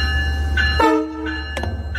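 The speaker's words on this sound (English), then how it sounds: "How is you gonna get scared over the honk if you like trains?" A train horn blasts in short, loud tonal honks over a low rumbling background, with brief gaps between the blasts.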